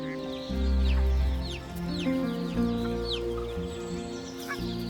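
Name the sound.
Canada geese calling by the Wupper river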